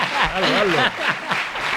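Audience at a bullfighting club talk gives an ovation, broad applause with a few chuckles filling the space while a voice speaks over it.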